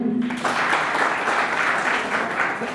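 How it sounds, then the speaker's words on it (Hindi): Seminar audience breaks into sustained applause, a dense wash of many hands clapping filling the room steadily for nearly three seconds after a brief voice at the start. "यस, एक तालियां हो जाए के लिए।"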